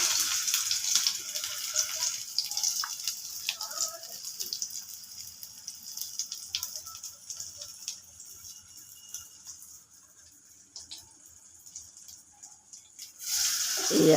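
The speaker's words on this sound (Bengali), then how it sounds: "তেলটা গরম হয়ে গেছে, তেলে দিয়ে দিলাম" Potato and poppy seed fritters (posto bora) frying in hot oil, a steady hiss of sizzling that runs throughout, dipping slightly near the end before swelling loudly again as more batter goes in.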